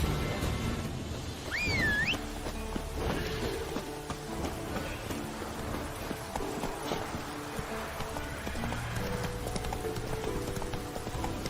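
A purebred Kedwan warhorse in the video game The Witcher 3 clip-clops steadily and close by, its hooves keeping a continuous rhythm, with a brief rising whinny-like call near the start.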